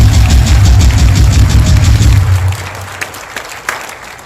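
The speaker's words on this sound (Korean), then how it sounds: "오늘 유튜버들께서 이분들에게 박수를 좀 치시기 바랍니다." Audience applause at a rally, loud sustained clapping from a large crowd for about two and a half seconds, then dying away into scattered claps and room noise.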